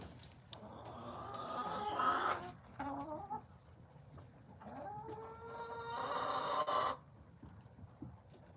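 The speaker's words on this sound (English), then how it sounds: "You always hear the flapping of the wings and they make it sound horrible, but they're just trying to get comfortable." Chickens in a coop on a cold night flap their wings and cluck while settling, two bursts of fluttering and clucking close by over a low steady hum.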